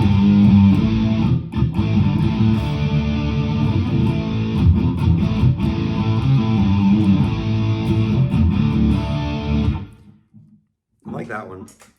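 Electric guitar run through a Mooer GE150 Plus Li on the Brit 900 distortion amp model, with loud, continuous distorted strumming for about ten seconds before cutting off, then a short separate sound.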